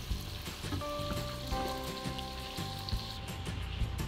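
Chicken heads frying in hot oil give a steady, crackling sizzle, fairly close and continuous, while melodic tones ring over it.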